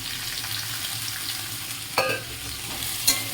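Sliced cabbage being stirred into a pan of fried potato and onion with tomato, coriander and green chilli, a steady close sizzle broken by a couple of sharp utensil clinks.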